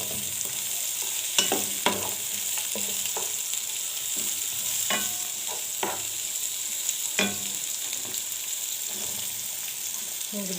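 Shrimp sautéing in a pan for a restaurant-style dish, with a continuous close sizzle broken by occasional scraping stirs and clinks throughout, with no talking.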